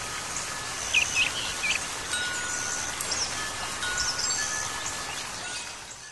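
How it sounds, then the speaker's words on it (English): A few soft bird chirps rise over a steady, hissing wash like a babbling brook, faint and spread through the scene, from a baby swing's built-in nature soundtrack. "baby can listen to babbling brooks, chirping birds, and other familiar sounds on one of two nature soundtracks."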